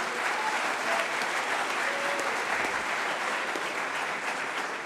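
A conference audience at a national non-oil export event claps steadily, with dense sustained applause filling the hall throughout and no speech over it.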